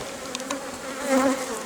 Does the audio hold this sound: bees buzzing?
yes